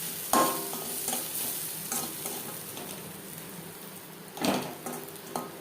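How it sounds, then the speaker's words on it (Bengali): Spices being stir-fried over a medium-to-low flame for vegetarian moong dal with roasted cumin powder added, with a soft steady sizzle and a few sharp scraping stirs of a spatula against the pan, close and alone. "মশলা বেশ ভালো করে কষিয়ে নেওয়া হয়ে গেছে"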